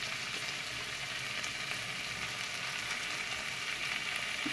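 Boiled banana flower fries in a pan for a Bengali mochar ghonto, giving a steady, fairly faint sizzling hiss that does not change through the short stretch, with no talk.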